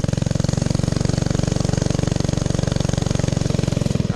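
A replica 1912 Indian board track racer's motor runs steadily with a loud, rapid, even chugging pulse close by, no voices over it.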